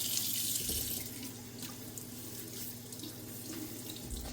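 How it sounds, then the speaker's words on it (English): A bathroom tap runs steadily into a sink as the face is wetted before a shave, the water rushing evenly and close by with a slight splash at the start. "So I'm gonna wet my face again."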